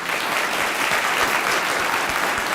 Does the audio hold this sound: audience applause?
yes